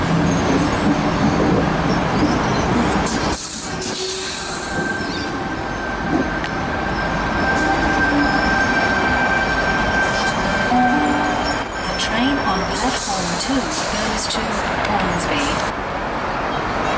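A Sydney Trains service at the Milsons Point station platform, a steady rumble of carriages with wheel squeal and rail noise close by, while a voice speaks over it.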